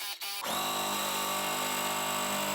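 A sewing machine stitches quilt block pieces together, its motor starting after a brief pause and then holding a steady, close, high-pitched whirring hum with no talking.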